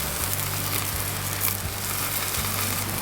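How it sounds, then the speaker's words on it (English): Seasoned steak frying on a grill during a backpacking trip near Mt Whitney: a constant, loud, close hiss of sizzling fat with a low steady hum underneath, no voices. "the steak on the grill"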